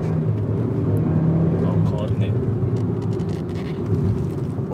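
Suzuki Swift driving on a Tokyo highway, heard from inside the cabin. A steady low engine and road rumble runs throughout, with people talking over it.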